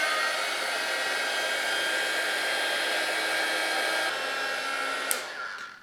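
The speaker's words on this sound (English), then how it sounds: "I'm going to use my little crafting heat gun here and speed this" Small crafting heat gun blowing hot air in a steady, close, unbroken whoosh, shifting slightly in tone before it clicks off and winds down.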